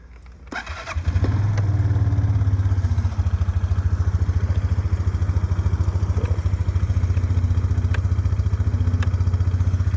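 A Suzuki Address V125 G scooter engine cranks and catches, then settles into a steady, close putter of idling with a few faint clicks and clatters over it.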